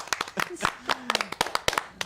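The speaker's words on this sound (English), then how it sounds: "Give some applause for the kid." A small radio show audience gives sparse, uneven claps for a young contestant, a dozen or so distinct hand claps, with brief speech sounds mixed in.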